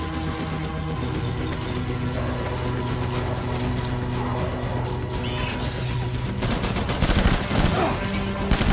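Gunfire in the Death Stranding video game, a rapid, dense fusillade of shots over a steady game soundscape, with heavier impacts and crashes toward the end; no talking.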